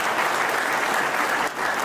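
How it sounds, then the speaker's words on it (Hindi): An audience at a speech in Shimla claps loudly for the leaders, a brief burst of dense, close applause with a slight dip near the end. "मैं चाहता हूं कि एक जोरदार ताली आप सभी हमारे लीडर्स के लिए"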